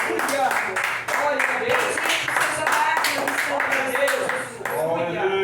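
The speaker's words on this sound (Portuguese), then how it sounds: "Glória a Deus com as palmas bem fortes." A church congregation claps loudly and rhythmically in time, with sharp, regular hand strikes under singing or spoken voices that continue over them.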